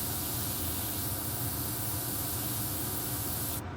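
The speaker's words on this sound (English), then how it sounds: "if you want to get detailed, you have to bring the airbrush close to the panel." An airbrush sprays paint onto a Christmas door hanger, giving a steady, close, unbroken hiss that fills the whole stretch and cuts off at the very end.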